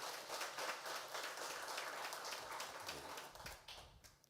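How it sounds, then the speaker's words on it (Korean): A church congregation at a Sunday morning Easter-season service gives a round of applause in praise, a faint, distant patter of many hands clapping. "우리 하나님께 영광의 박수 한번 드리겠습니다."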